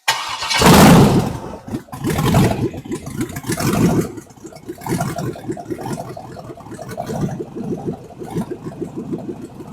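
A 2002 6-litre LS engine cranks and catches with a loud burst, then settles into a rough, lumpy idle with a rapid pulsing rhythm, close and alone.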